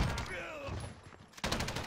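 Rapid gunfire from the video game Modern Warfare during an online match, a dense burst of shots up close, then a short pause before another loud volley, with a voice partly under it.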